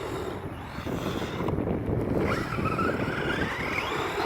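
A Landslide 1/8-scale RC truck drives and jumps outdoors, its electric motor whining and rising in pitch over steady wind noise, with a brief brake midway through the jump.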